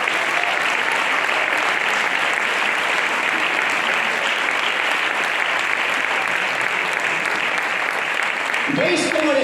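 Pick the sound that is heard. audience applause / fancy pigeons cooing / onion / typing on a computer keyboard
audience applause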